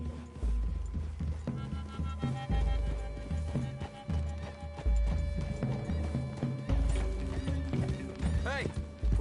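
Horses galloping in Red Dead, a video game, in a steady, rolling rhythm of heavy hoofbeats, with a whinny near the end and voices talking over the pounding.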